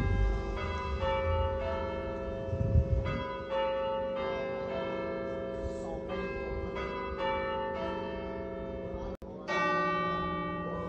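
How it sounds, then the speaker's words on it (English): Church tower bells ring out steadily at Stow-on-the-Wold in the Cotswolds, a continuous overlapping peal of loud, rich tones with a faint voice briefly underneath. "It is 88 feet tall and has loud, glorious bells, which can be heard for miles."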